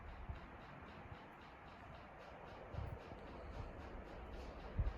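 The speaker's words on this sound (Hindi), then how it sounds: "ये जो आवाज़ आपको सुनाई दे रही होगी ये नदी की आवाज़ है।" A river flows at night below a hotel balcony near Jim Corbett in Uttarakhand, a steady faint broadband rush of water with occasional soft low bumps and no talking.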